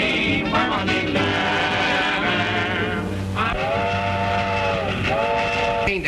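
Train slowing to a stop at a station in an old 1929 film, rumbling wagons under a long whistle blast, then two more sustained whistle calls near the end.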